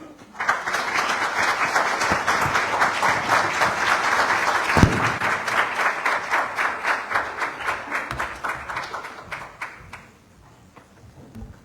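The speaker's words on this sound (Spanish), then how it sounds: "por favor les volvemos a repetir un aplauso" An audience at a housing seminar applauds with sustained, loud clapping for about ten seconds that gradually thins out and fades into quiet room tone.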